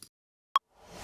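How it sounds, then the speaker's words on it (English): A short impact effect in a shoegaze mix at the start of the second half of a chorus lands as one sharp, bright hit, with a noisy tail rising softly after it. "we have the other impact that happens at the beginning of the second half of"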